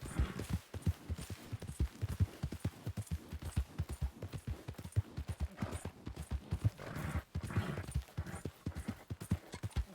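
Horse hooves clip-clop in a steady, brisk rhythm in a video game, close and clear, with no voices.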